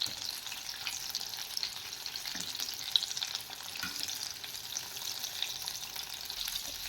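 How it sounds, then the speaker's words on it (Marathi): Paneer pakoras deep fry in oil with a soft, continuous bubbling hiss, fairly faint and steady, with no one speaking. "आपण पकोडे तेला सोडून घेतलेले आहेत आणि आता आपण ते छान असे फ्राय करून घेणार आहोत"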